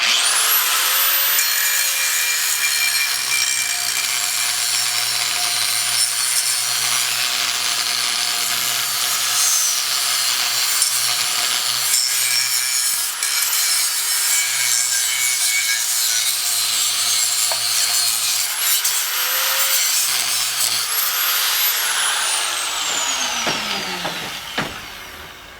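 An abrasive cutting disc grinds through the steel ring on a big fan motor stator: a loud, continuous high-pitched shriek with brief pitch dips, ending as the cut finishes and the disc winds down.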